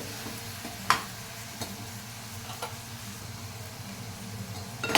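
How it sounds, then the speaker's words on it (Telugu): Ridge gourd curry being stirred in a pan, a soft continuous sizzle with a few brief scraping clinks of the spoon against the pan, close and moderately quiet. "ఇప్పుడు మనం దీన్ని ఇలాగ చక్కగా కలుపుకోవాలి."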